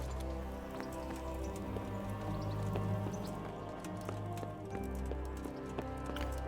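Horse hooves clip-clop steadily in the medieval video game Kingdom Come: Deliverance, a regular clatter layered over a busy game soundscape with tonal ambience and scattered sharp ticks.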